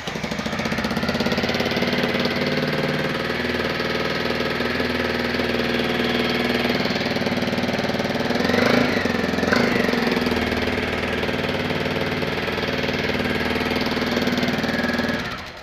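Single-cylinder motorcycle with a loud aftermarket exhaust idles steadily, a deep rumbling putter that holds throughout with a brief swell in the middle, close and alone without talk.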